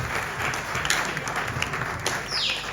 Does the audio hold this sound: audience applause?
yes